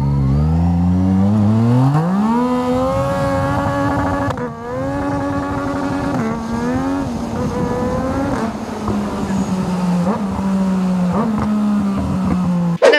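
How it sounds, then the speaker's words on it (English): Yamaha MT-09 motorcycle engine revving, with loud rising and falling engine pitch through repeated throttle blips, steady and close, played back as a recording without talk. "Have you ever heard an MT09?"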